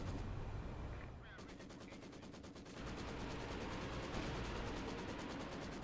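A Panzerwerfer rocket barrage in Company of Heroes 2 battle: a rapid, loud rattling volley of launches and impacts, briefly dipping then resuming as a dense continuous stream of bursts.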